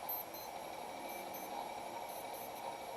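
A wristwatch alarm beeps in short, thin, high-pitched bursts that repeat in small groups, faint against a steady background hum, with no talking.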